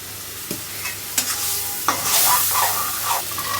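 Kidney bean curry with tomato and kasuri methi sautéing in a pan, a bright continuous sizzle with repeated spatula scrapes and knocks, close and fairly loud, with no talking.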